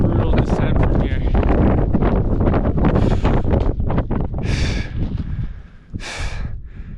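Strong gusts of mountain wind on Ama Dablam buffet the microphone in loud, roaring bursts, with heavy breathing close by and the gusts easing briefly toward the end.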